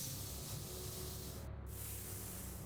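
Spray paint can hissing in a steady, continuous spray onto a plank in a video game, a soft, even airy rush with a brief break near the end, no voices.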